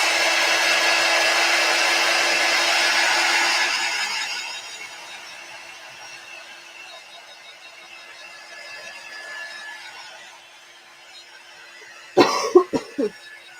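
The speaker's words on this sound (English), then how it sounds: "I'm going to bring in our quick dry tool because I can tell that they're still kind of wet" A handheld heat drying tool blows steadily on chalk-paste-coated discount-store holiday decor, a loud whooshing hum that drops in level partway, then fades, followed by a brief cough near the end.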